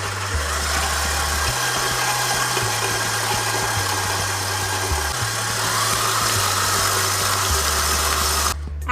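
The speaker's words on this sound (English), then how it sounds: "we're gonna have the mixer on while we do this" Electric mixer running steadily as it beats butter with melted, slightly cooled chocolate for cupcake batter, a continuous motor whir with a low hum that shifts in step, cutting off abruptly at the end.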